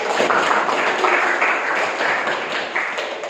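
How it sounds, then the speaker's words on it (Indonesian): A short burst of clapping from a classroom audience applauding a student, uneven and close, fading slightly toward the end. "Oke, tepuk tangan buat Rezi ya"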